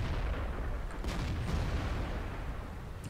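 A Hetzer tank destroyer fires high-explosive shells in a tank video game, producing a heavy, continuous low booming rumble with a few sharper cracks rising through it, close and loud with no voices.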